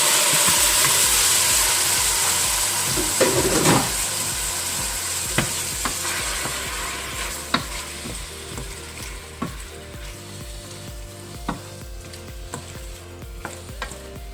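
Small and large shrimp hit a hot pan of softened onion and sizzle loudly, with a steady frying hiss and occasional stirring clicks and scrapes.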